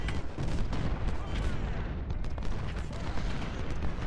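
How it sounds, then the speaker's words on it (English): Artillery fire in the Civil War strategy game Ultimate General: Civil War, a dense rumbling barrage of booms and overlapping gunfire filling the whole stretch. "Get this artillery going"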